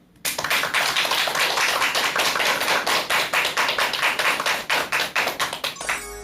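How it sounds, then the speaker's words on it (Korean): A lecture audience claps for the speaker, a loud burst of applause that starts abruptly and continues steadily before thinning into separate, slowing claps near the end. "큰 박수 부탁드립니다."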